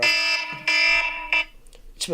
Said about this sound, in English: That was my alarm for my reminder to watch the IU game.